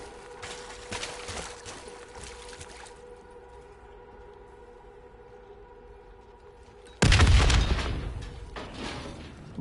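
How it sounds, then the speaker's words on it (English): A sudden loud explosion in a PS4 shooter video game cuts in after several seconds of quiet ambient hum, a single heavy boom that decays into rumbling debris. "The explosion blocked our path"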